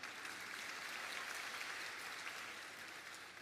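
Korean church congregation applauding during a Sunday worship service as a gift is presented at the front; dense, steady clapping fills the whole stretch at moderate, even loudness, with no talk over it.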